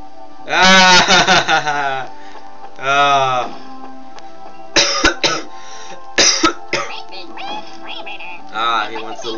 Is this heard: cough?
yes